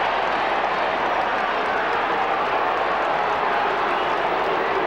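Broad, steady roar of a large football stadium crowd at an AFL match, West Coast versus Melbourne, reacting to an umpire's free kick, heard at a distance as a continuous wash of noise without clear peaks.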